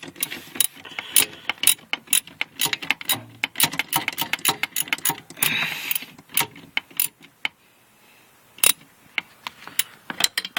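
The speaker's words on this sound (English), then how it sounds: "Put the bracket in how it came out. It has a little latch on the left side. Tighten up that nut." A ratchet tightening the nut on the fuel filter bracket of a 1990 Acura Integra gives close, rapid, uneven clicking bursts with brief pauses and a few louder clacks near the end.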